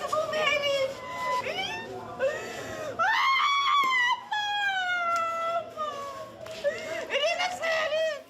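A woman wails and screams in grief over her daughter's body at a hospital, with high, long cries that rise and break, loud and close, going on and on.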